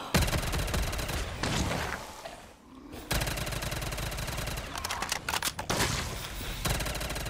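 Sustained rapid gunfire from a weapon in a Call of Duty custom zombies map, dense continuous bursts that drop away briefly near the middle before resuming loud and steady.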